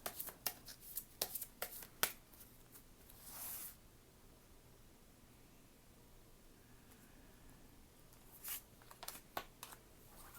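Tarot cards being shuffled and drawn, with soft flicks and riffles clustered at the start and again near the end, separated by a quiet stretch of faint hiss; no voices.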